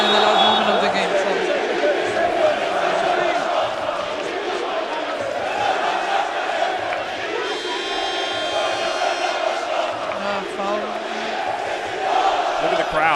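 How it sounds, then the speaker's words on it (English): Fenerbahce supporters fill an arena during the third-place game of a women's EuroLeague basketball tournament, their sustained crowd roar and rhythmic chanting carrying steadily throughout, loud and dense with no pauses. "They're having a little Fenerbahce chant."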